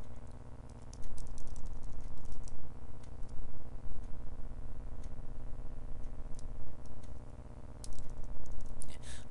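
Computer keyboard keys pressed in a steady run of light clicks, including Shift and Enter, close and fairly clear over a faint background hum, with no talking.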